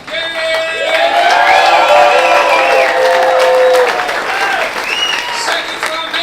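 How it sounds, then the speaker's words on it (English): A crowd claps and cheers loudly at a competition event, with whoops and shouted voices rising over the sustained applause before it eases off slightly. "let's get a little round of applause"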